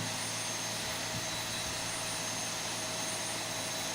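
Steady, even jet engine drone from a Boeing 737-700 in a flight simulator game, a constant broadband hum holding level throughout with no voices.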